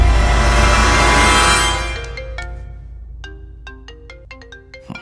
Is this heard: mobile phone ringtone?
yes